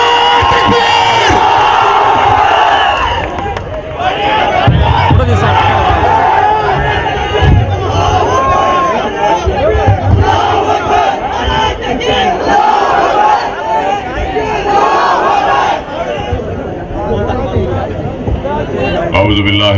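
A large crowd at a political rally roars the Takbir slogan in loud, repeated chanted shouts that swell and fall over nearly twenty seconds, dense cheering and babble filling the space.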